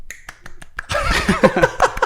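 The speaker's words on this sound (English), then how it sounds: "my one-handed clap maybe" A man makes a one-handed clap, producing a few sharp, dry snapping pops close up, spaced irregularly, before people start talking and laughing over the sounds.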